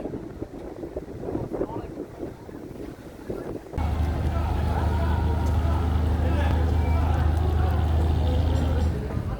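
Fishing trawlers on the Meghna river at Chairman Ghat, Hatiya, with a steady low engine drone rising loudly after a quieter windy, watery start, under constant wind buffeting and water noise.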